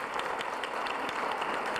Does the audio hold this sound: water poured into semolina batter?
no